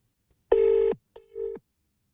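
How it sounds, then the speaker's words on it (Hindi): A phone call being placed: a steady electronic tone, then a short click and a second shorter tone, clear and close in otherwise quiet surroundings. "चलिए डूडी को फोन मिला देते हैं"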